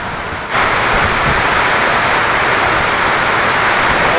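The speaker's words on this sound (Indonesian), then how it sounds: "Hujan angin" Heavy rain and wind at a stadium in Indonesia, heard from an upper VIP room: a loud, steady broadband roar of downpour that swells in abruptly after half a second and holds evenly.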